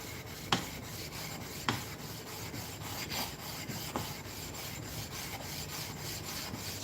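Blade sharpened on an 8000 grit stone, a continuous close rubbing and scraping in a steady back-and-forth rhythm with a few sharp taps.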